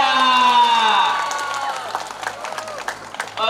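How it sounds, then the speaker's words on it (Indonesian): Applause and cheering from a school audience at the SMAN 6 Palembang Bujang Gadis pageant, crowd noise and scattered clapping rising under fading music, with voices shouting throughout. "Lagi dong, beri tepuk tangan yang meriah."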